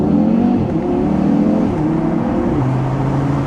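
Audi TT RS Iconic Edition exhaust heard from inside the car with the windows lowered, a loud, rough engine drone that rises and dips with revving throughout, no talk.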